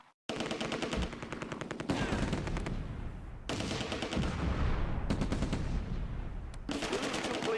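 Sustained gunfire in a Close Combat World War II game, with a Sherman tank and an infantry platoon firing: rapid machine-gun bursts and rattling volleys in several long stretches separated by brief pauses, loud and close.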